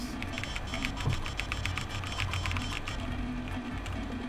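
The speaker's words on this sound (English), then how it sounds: "Was that actually me typing now?" Computer keyboard typing in the game Superhot, a rapid run of light clicky keystrokes over a low background hum, close and fairly steady for a few seconds, no voices.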